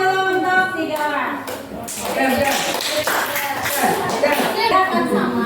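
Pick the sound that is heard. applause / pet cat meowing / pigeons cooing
applause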